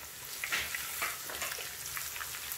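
Spices tipped into browned onions sizzle steadily in a hot pan, a bright continuous frying hiss with small spattering pops, heard alone without talk.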